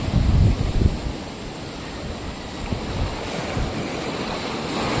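Big sea waves churn near Nasugbu during Typhoon Emong, a steady roar of surf with a louder crash at the start and gusting wind buffeting the microphone throughout.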